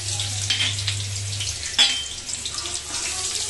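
Chopped onions hitting a hot pan in a home kitchen, a loud hissing sizzle that rushes up and then settles into a steady frying noise, with a low hum underneath.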